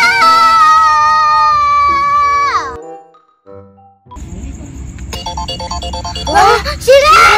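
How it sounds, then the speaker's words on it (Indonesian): Phone ringtone for an incoming call, a loud melodic electronic tune with a descending sweep, a pause, then a brighter chiming ring pattern, with a voice cutting in near the end. "ini ada yang telepon nih"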